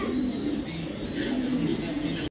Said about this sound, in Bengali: একটা ফিমেল কবুতর।